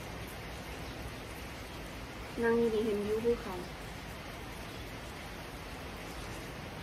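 Steady rain pours down over a mountain view at three in the morning, a constant broadband hiss holding even from start to finish, with someone speaking briefly partway through.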